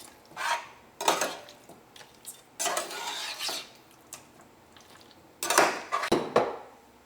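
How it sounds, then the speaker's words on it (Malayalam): Chicken being stirred into masala in a pan for spicy chicken korma, with several separate bursts of scraping and clattering spoon strokes between quiet pauses. "നമുക്ക് നന്നായിട്ടൊന്ന് മിക്സ് ചെയ്യാം"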